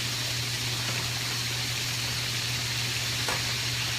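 Steady, even sizzling of seafood frying in hot oil, with a faint low hum beneath and no talking.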